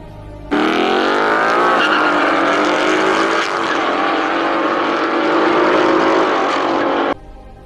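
A loud Ford Mustang engine roars continuously for several seconds, its pitch shifting as it revs, close and powerful, then cuts off.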